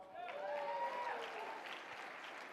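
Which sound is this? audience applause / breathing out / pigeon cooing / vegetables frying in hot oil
audience applause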